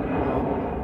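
Steady, loud airplane roar at the new Berlin BER airport beside the village of Selchow, a dense continuous rumble close by and filling the whole moment, with no talk over it.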